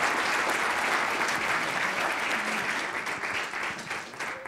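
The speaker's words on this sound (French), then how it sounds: "les applaudissements sont nourris" Conference audience giving hearty applause after a talk on the Middle East, a dense, steady round of clapping from a packed hall that slowly tapers toward the end, with no voices.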